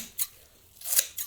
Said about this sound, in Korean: 가위로 한번